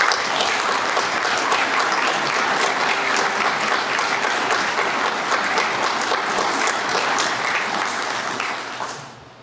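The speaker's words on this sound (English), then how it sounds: "Please join me in a round of applause to thank the candidates' families and friends" A seated audience at an Army officer commissioning ceremony gives sustained, even applause lasting several seconds before fading out at the end, loud and full with no speech over it.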